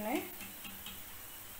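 Peanuts dry roasting in a pan over a medium flame, stirred with a few soft scraping strokes and a faint sizzle, close and quiet, fading after the first moments.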